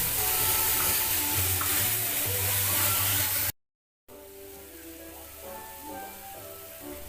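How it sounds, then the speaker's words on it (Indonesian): Spice paste sautéed in a pan for a tofu dish gives a steady, fairly loud sizzle with faint stirring scrapes, briefly cut to silence before the frying hiss resumes a little quieter. "Tumis sampai bumbunya matang agar tidak bau mentah, agar tidak bau langu bumbunya."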